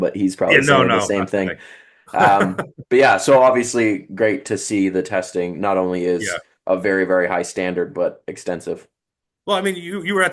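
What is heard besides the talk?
No everyday noise stands out behind the speech.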